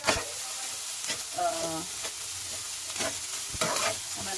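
Tofu, malunggay leaves and egg sizzle in a pan with a steady crackling hiss, broken by repeated scraping and clinking stirs, heard close with no talk.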